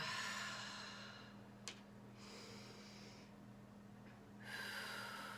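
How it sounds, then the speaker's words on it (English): A slow breath drawn in and then released, soft airy exhales at the start and end with a quieter stretch between, close and gentle over a steady low hum. "Taking a breath in, and then letting go."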